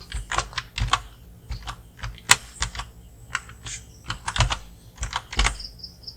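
Typing on a computer keyboard, with irregular clusters of close, crisp key clicks and taps separated by short pauses.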